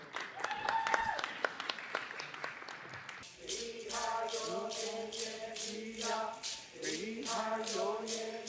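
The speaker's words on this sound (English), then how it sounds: "Let's give him a big round of applause." A crowd claps steadily in a city council chamber, a faint, even patter of many hands that follows a few seconds of a distant voice speaking.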